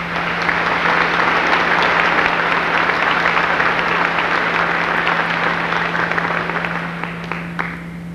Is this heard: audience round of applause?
yes